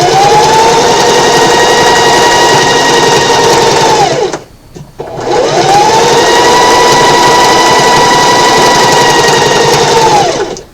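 A sewing machine stitches a quillow in a loud, steady whir. It runs continuously, stops briefly near the middle, then starts up again and runs to the end.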